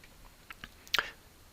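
A computer mouse clicked on the sync button in Scriptcase: a couple of faint light taps followed by one sharper, close click, all very brief against near silence.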